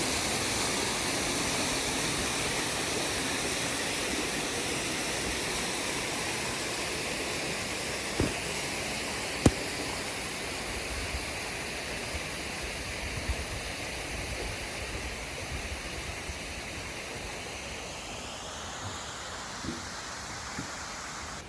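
Mountain valley stream at Sogeumgang on Mt. Odaesan, a steady rushing wash of water over rocks, broad and continuous throughout with a couple of faint knocks and no voices.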